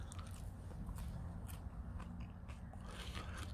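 A raw wild mountain herb bitten and chewed up close, quiet crisp crunching and scraping bites in a short run with no talking.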